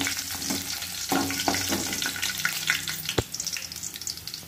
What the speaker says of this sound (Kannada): ಇದು ಎರಡು ಹಸಿಮೆಣಸಿನಕಾಯಿ ಹೆಚ್ಚಿಟ್ಕೊಂಡಿದ್ದು ಹಾಕ್ತಾ ಇದ್ದೀನಿ